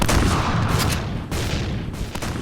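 Rapid gunfire in the shooter game Point Blank crackles in dense, overlapping bursts, loud and close, with brief pauses between volleys and no talking.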